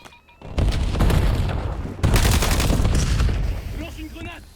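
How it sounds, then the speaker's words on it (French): Frag grenade blast in the Black Ops 7 campaign, two heavy booming explosions in quick succession with long rumbling decay, loud and close, followed by quieter game sounds. "Je lance une grenade."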